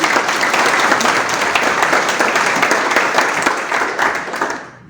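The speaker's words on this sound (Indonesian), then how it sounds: "Sekali lagi tepuk tangan meriah bagi Yesus." A congregation claps at a Sunday church service at a theology college in Tawangmangu, producing dense, sustained applause that stays loud and steady before tapering off at the very end.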